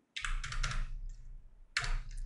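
Computer keyboard keys struck during After Effects editing, heard as two close, loud bursts of rapid clicking separated by a short pause, with no talk.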